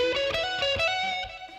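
Electric guitar playing a quick, rushed-rhythm phrase from a live song, a few plucked notes ringing with effects and slight distortion, close and clear with no talking.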